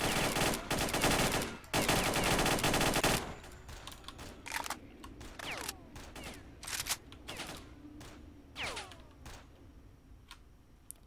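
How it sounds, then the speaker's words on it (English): Loud automatic gunfire rattles in S.T.A.L.K.E.R. in dense bursts at first, then gives way to scattered distant shots with ringing ricochet-like tails and faint ticking. "Someone's shooting at me from somewhere."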